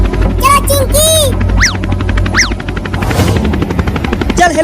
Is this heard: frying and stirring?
no